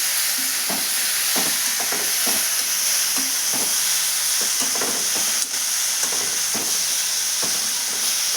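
Tomatoes frying in a pan after a brief simmer, sizzling steadily with a loud hiss throughout and repeated scraping and stirring strokes over it, close by with no voices.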